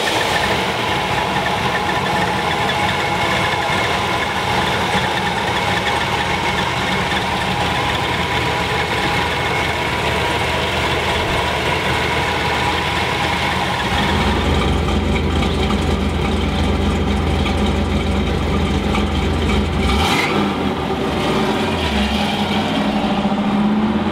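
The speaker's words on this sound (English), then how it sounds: "let's take this 67 Camaro convertible, big block, 4-speed for a ride" Big-block V8 of a 1967 Chevrolet Camaro RS convertible with a 4-speed, idling steadily and close by with a heavy low rumble, then dropping into a deeper, louder idle partway through, with a brief blip near the end.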